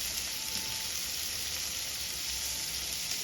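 Ripe tomatoes and green chillies, salted, sizzle steadily in a hot pan for a coriander tomato chutney, a continuous close frying hiss with no voices.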